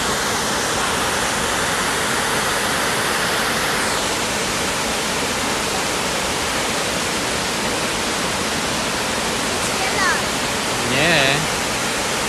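A waterfall in north west Tasmania flows strongly, a loud, dense, steady rush of water filling the whole scene, with faint squeaky sounds near the end.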